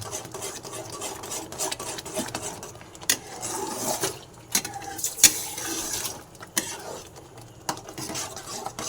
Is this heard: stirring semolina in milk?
yes